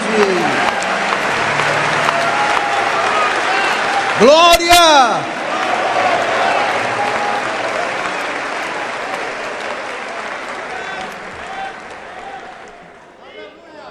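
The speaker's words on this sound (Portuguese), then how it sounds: "Vamos aplaudir Jesus mais forte" A church congregation claps loudly and continuously while a voice shouts an exclamation over it, the applause gradually fading away toward the end.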